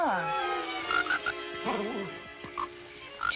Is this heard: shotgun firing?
no